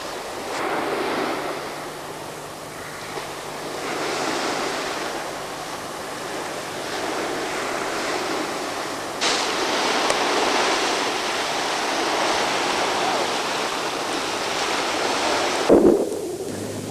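Waves wash onto sandy Dolwen beach on the Cardiganshire coast, a continuous, moderately loud surf hiss rising and falling in broad swells, with a short thump near the end and no voices.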